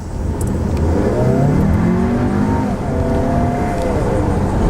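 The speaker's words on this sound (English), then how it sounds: "just going around the corner, mashing the gas down, the tires start spinning" A 2018 VW Atlas S SUV with a 2.0L turbo engine accelerates hard around a corner with its tires spinning. The engine roars close and loud in one continuous, rising surge.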